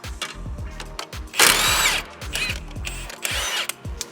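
An impact wrench hammers rapidly on a sway bar end link of a 2022 Subaru WRX during a coilover install, firing in short loud bursts close up.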